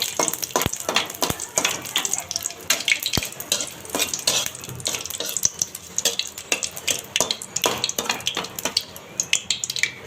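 Dried red chillies fry in a pan for a Bangladeshi mashed-potato dish, giving a steady close sizzle with frequent stirring scrapes and light clinks of utensil against pan throughout.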